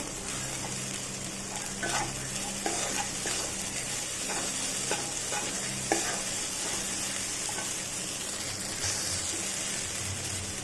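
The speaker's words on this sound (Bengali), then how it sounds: "প্রথমে আমি অর্ধেকটা দিয়ে ভালোভাবে নেড়ে নেব" Soaked sago being stirred in a pan for vegetarian sabudana pulao, a steady soft sizzle with continuous scraping and shuffling of the spatula, sustained and close without any voices.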